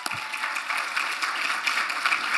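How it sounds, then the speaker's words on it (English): Applause at a distinguished lecture event, a continuous, fairly loud wash of many hands clapping that holds steady throughout. "Let's give another round of applause for that."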